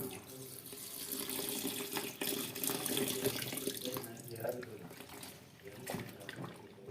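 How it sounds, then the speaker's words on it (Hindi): Tap water runs steadily into a bowl set out for washing cloths, a continuous broadband splashing and rushing close by, with a voice faintly present beneath the flow. "अच्छे तरीके से आपने इसमें पानी डालना है"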